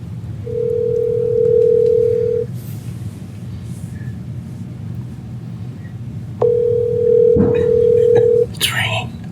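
Ringback tones of an outgoing phone call sound in long steady beeps, two separated by a pause, with a low background rumble and brief noises near the end.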